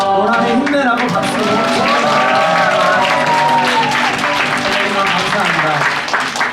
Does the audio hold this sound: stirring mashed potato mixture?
no